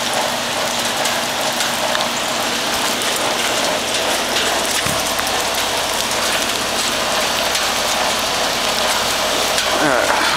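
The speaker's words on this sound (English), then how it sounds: "It is really rainy." Heavy rain pours steadily outdoors beside a 2011 Broan 3-ton heat pump, a dense unbroken hiss at full loudness with a faint mechanical hum beneath.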